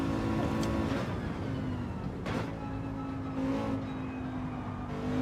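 A race car in Gran Turismo 7 drifts on dirty tyres at Monza, its engine droning steadily with brief revving swells and tyre noise, heard alone without talk.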